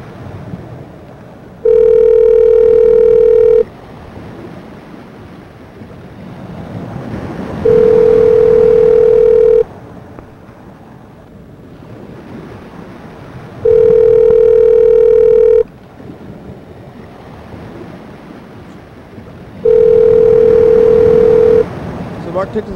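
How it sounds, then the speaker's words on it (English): A phone ringing out on a placed call: four evenly spaced ringback tones, each about two seconds long with roughly four seconds of quiet between, heard over low background noise. "See if this Mike guy's gonna answer the phone."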